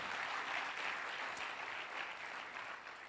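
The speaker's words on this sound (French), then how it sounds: "vous avez le droit, mesdames et messieurs, de l'applaudir encore une fois" A large audience at a Burkina Faso young-entrepreneurs event applauds a Canal+ Burkina executive, a dense, steady wash of many hands clapping that fills the whole stretch at an even level.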